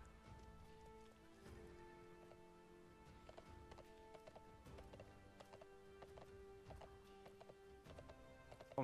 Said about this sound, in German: Warum hört sich dein Pferd so komisch an?